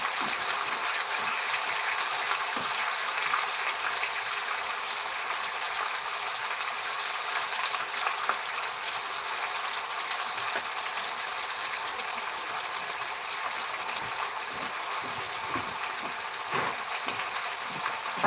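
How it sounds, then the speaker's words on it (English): Food searing in a hot pan, a steady broad sizzle that holds at an even moderate level for the whole stretch, with a few faint clicks and no talking. "I guess I'm doing a sear first because it's higher than I want"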